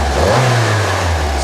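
Carburetted 8-valve car engine revving after a carburettor rebuild, a loud close engine note that rises briefly in pitch and then holds steady, with no talk.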